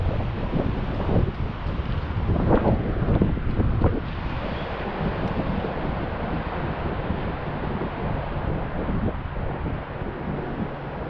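Strong wind buffets a Mavic Mini drone in flight, a steady loud roar of gusting air across the microphone with heavier bursts early on, no voices.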